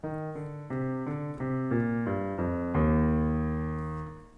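Piano left-hand harmony for a song plays a short sequence of sustained chords, about seven in steady rhythm, ending on a longer ringing chord that fades, close and alone with no talk.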